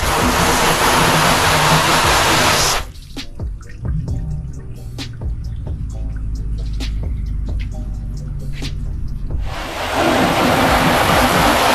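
Water sheeting and dripping off a freshly coated car hood after a Shine Armor application, a soft close trickle with scattered drips between louder bursts of rushing spray at the start and end.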